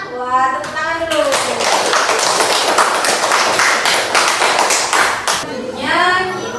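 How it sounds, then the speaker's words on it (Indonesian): Children in a primary school classroom clap their hands together in a loud, dense burst of applause lasting several seconds, framed by a voice speaking before and after. "Wah, tepuk tangan dulu."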